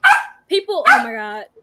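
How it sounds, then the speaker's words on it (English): A dog barks close by in a short burst of sharp, yelping barks that end in a drawn-out whine, with a person talking just before. "That's my dog."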